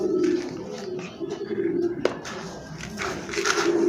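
Domestic pigeons cooing in a loft while feed is mixed by hand, low continuous coos running throughout under steady room noise and some rustling.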